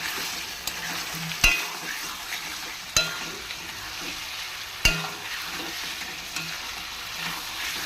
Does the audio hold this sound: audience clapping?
no